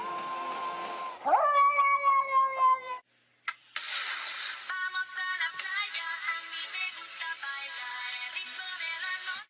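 A pet cat meows in drawn-out, tonal calls, loud and close, with a short silent gap before a brighter, busier stretch of sound continues to the end.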